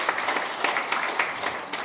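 Audience applause at a formal policy seminar in a National Assembly forum hall, a steady wash of many hands clapping with periodic swells, sustained for about two seconds without speech.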